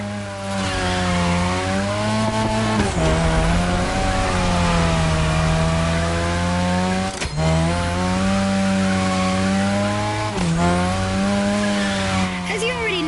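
Cars drift around a drift track in the racing game The Crew Motorfest, engines holding steady high revs with sustained harmonic whine, brief shifts and dips as they slide, loud and continuous throughout.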